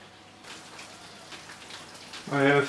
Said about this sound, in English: Let's turn on the sparge water.